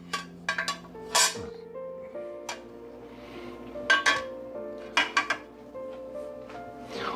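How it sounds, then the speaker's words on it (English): Small seven-inch metal baking pans with removable bottoms are handled in an apartment kitchen, giving a series of close, bright clinks and clanks with ringing tails, irregular and spaced out, with no talk. "Seven-inch baking pans with removable bottoms"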